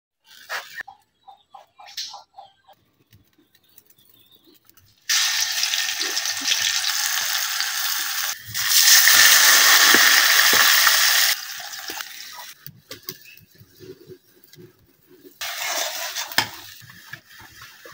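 Bottle gourd and potato fry in a pan, giving loud, close bursts of hissing sizzle that swell and fade as the pieces are stirred, with quieter clinks and scrapes between.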